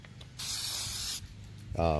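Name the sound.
aerosol spray paint being sprayed around rubber boot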